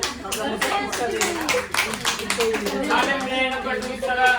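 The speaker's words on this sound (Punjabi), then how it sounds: "ਮਾਰ ਦੋ ਤਾੜੀਆਂ" A family group claps in a rough, scattered patter at a homey celebration for a channel reaching 30k followers, while voices talk over the applause.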